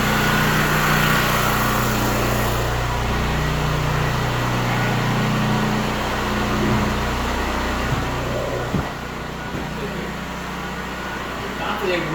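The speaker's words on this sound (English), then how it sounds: "Got to go get a new generator. The other one busted. Got the new generator." A newly bought portable generator runs continuously at a home rebuild site, a loud steady engine drone close by with a low rumble throughout.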